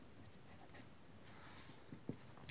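A pastel pencil in flesh colour sketches short individual eyebrow strands on paper, giving a soft, continuous scratchy rasp with a few sharper strokes near the end and no voices.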